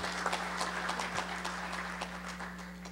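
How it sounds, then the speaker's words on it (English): Applause from a convention audience at a general session, steady and fairly faint, with a broad wash of clapping over a constant low electrical hum. "Let's give these posts a big outstanding applause for the hard work"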